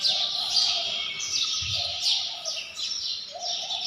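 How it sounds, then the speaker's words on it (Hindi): Birds perched at a peaceful resort in Vrindavan, Mathura, chirp and tweet in repeated high, bright calls. The calls come in short bursts at moderate distance over a quiet background, with a low soft coo briefly heard beneath them. "ये देखिए यहाँ पर पक्षी भी बैठे रहते हैं"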